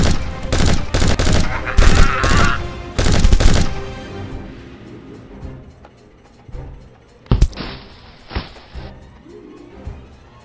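Bursts of big-gun fire from a sci-fi game crack out in rapid clusters early on, loud and close, then fade to scattered single shots and a sharp blast with a brief whine, with no talk over it.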